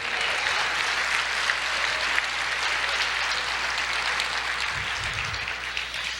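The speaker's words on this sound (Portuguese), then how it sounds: "aplauda o Senhor" Steady applause from a church congregation fills the space, dense and continuous at even strength throughout, with no voices standing out over it.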